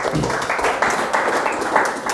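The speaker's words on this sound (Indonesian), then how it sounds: "Tepuk tangan dulu buat kita semua" Students in a classroom clap together after a lesson recap, a dense, steady burst of applause lasting about two seconds at close range.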